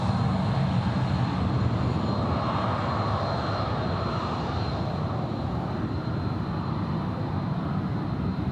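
At Sydney Airport an aircraft engine roars in a broad, steady, loud rumble with a faint high tone, sustained throughout.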